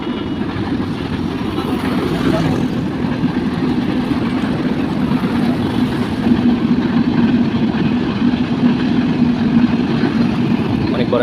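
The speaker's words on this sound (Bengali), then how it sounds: "এই দেখেন ট্রেন যাইতেছে।" Train passing by near the Paksey railway, a steady heavy rumble and low drone heard at some distance throughout, with talk over it.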